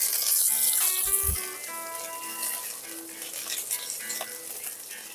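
Chopped garlic hits hot oil in a pan for a Tangra fish curry, giving a strong, steady sizzle with a few light clinks, the frying easing slightly after the first seconds.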